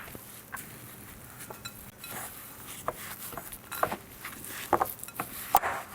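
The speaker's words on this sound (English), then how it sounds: "Or you can stir it by hand in a bowl, which I'm about to do." Raisins and coconut flour being stirred by hand into raw vegan cake batter in a bowl, soft scraping and sticky mashing with scattered light clinks of a utensil against the bowl, quiet and close.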